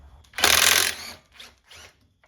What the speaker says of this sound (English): next we're going to take the reverse gear retainer bolt out. It's a 13.